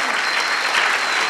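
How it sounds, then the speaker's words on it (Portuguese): Congregation applauding during a church service, a thick, continuous burst of many hands clapping together that fills the whole short moment at an even level. "dar uma salva de palmas ao Senhor"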